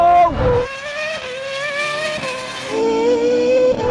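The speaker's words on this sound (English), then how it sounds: "I can hear the Formula One car." A Red Bull RB7 Formula One car at a drag race approaches, its high, whining engine note rising and then shifting pitch over a few seconds, moderately loud and close with no talk.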